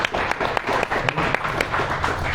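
An audience claps for Sanskrit students and teachers at a school gathering, a sustained, dense applause of many hands with scattered sharper claps standing out, fairly close and steady throughout.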